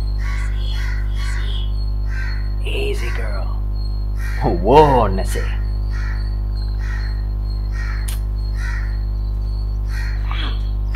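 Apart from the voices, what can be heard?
crow cawing in video game The Last of Us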